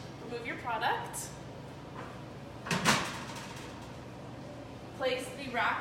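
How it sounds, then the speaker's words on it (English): A metal rack slides back into a combi oven with a short scraping clatter near the middle of the clip. Speech comes before and after it. "Place the rack back inside."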